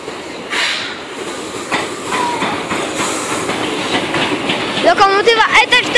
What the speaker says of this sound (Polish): Pokazanie wjazdu pociągu parowego na peronie w Elblągu.